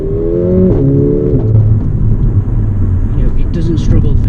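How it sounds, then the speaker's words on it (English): A Mercedes CLA 45 AMG or A45 AMG launches from the lights at full throttle, its engine note climbing and dropping through gear changes while a person talks over it. "off the lights I will floor it"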